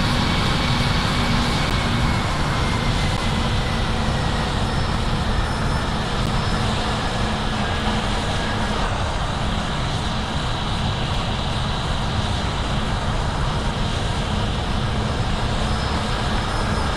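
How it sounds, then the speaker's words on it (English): A loud, constant aircraft engine roar from a plane in the Roblox game Project Flight fills the whole stretch, a dense steady drone with no pauses. "This is a bit of a loud plane."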